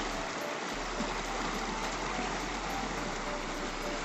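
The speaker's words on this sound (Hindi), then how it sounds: "इसमें भी पानी काफ़ी फ्लो में है" River water flowing strongly at a ghat in the hills, a dense continuous rushing wash, close and steady with no break, no voices.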